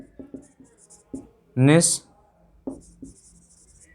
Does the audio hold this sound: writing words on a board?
yes